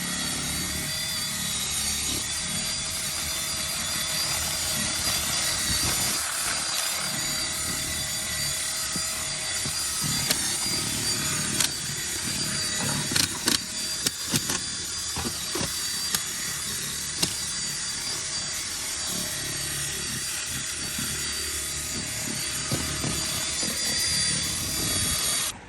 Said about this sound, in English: So we're going to take our drill brush.